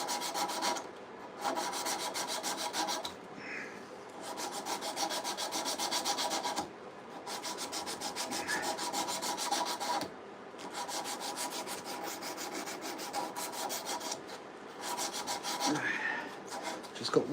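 A rasp filing the wooden handle of a handsaw in rapid, steady back-and-forth strokes, close and continuous, with brief pauses between runs of strokes.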